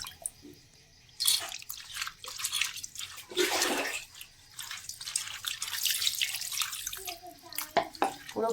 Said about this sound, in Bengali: এইভাবে কিন্তু সব মাছগুলো ধুয়ে নেব।